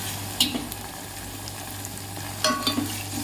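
Onion, ginger and garlic paste frying in a pan for a brinjal and chana dal curry, a steady low sizzle with a couple of brief stirring scrapes, close and alone with no talk.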